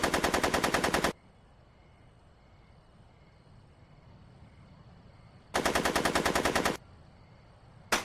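Rapid automatic gunfire in the Back to the Future video game, in two loud sustained bursts of about a second each, separated by a quiet stretch of low background hum.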